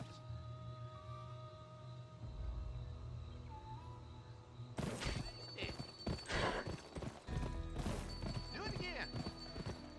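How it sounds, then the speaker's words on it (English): Galloping horse hooves in a video game, the horse spurred into a sprint, thudding in quick uneven bursts during the second half, with someone talking over them. "Press the sprint button to spur your horse."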